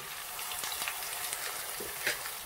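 A lamb chops masala frying in a pan, a steady close sizzle filling the whole stretch with a few small crackles and pops, no voices over it.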